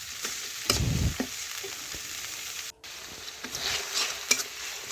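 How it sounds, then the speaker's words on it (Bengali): Spices and onions frying in oil and stirred with a spatula, giving a loud, close sizzle broken by sharp scraping strokes and brief clatters against the pan, without any speech. "খুরপি দিয়ে নাড়াচাড়া করে আমি দেখুন একটু ভেজে নিচ্ছি, পেঁয়াজের সাথে মিশিয়েও নিলাম"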